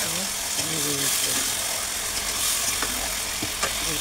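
Chicken pieces sizzling in a pot for biryani while being stirred, a steady loud fry hiss with occasional scraping clicks of the spoon, a voice faintly underneath.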